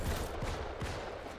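Rapid gunfire in the sci-fi shooter Starship Troopers: Extermination as players fire on an Arachnid bug, a dense, continuous burst of shots with low thumps throughout.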